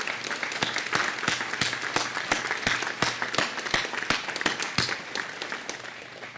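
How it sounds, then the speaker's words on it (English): Audience applause at a ceremony in Riverside National Cemetery, with sharp individual claps standing out from a scattered outdoor crowd, fairly close and uneven, holding steady before thinning slightly at the end. "Let's give Mike a round of applause."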